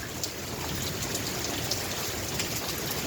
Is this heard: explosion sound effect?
no